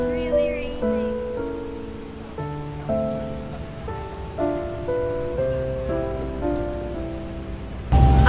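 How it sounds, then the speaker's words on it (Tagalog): Heavy rain pours down in Bangkok as a steady, dense hiss, with a stepped melodic tone running over it throughout. "It's really raining."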